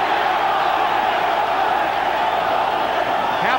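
Boxing arena crowd at a Kostya Tszyu vs Julio Cesar Chavez WBC 140lb title bout in 2000, a dense, steady roar of many voices chanting for Chavez throughout, loud and continuous with no single voice standing out.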